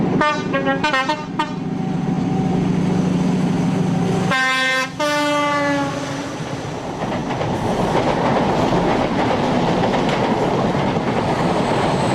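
A diesel HST train labors loudly nearby climbing Dainton Bank in Devon, sounding two-tone horn blasts before its engine roars and rolls on with a steady, heavy rumble.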